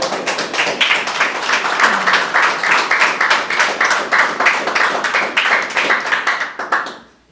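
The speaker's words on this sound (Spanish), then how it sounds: "Y un aplauso." A church congregation applauds during a Spanish-language sermon, with many hands clapping together in a quick, rhythmic, fairly loud patter that fades out at the end.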